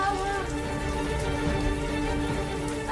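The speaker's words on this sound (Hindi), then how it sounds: "बारिश हुई है, बारिश।" Rain falls steadily as a constant, dense hiss and patter on surfaces, even and unbroken throughout.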